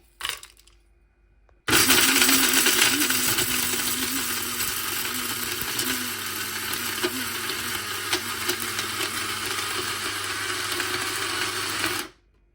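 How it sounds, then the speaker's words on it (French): A small blender whirs loudly as it crushes dry marinade ingredients for braised fish. It starts abruptly after a brief quiet moment, runs steadily with a gritty rattle for about ten seconds, then cuts off. "un petit mixeur comme ça, je vais verser tous mes ingrédients qui sont secs là-dedans"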